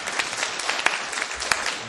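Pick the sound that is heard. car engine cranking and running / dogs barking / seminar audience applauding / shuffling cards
seminar audience applauding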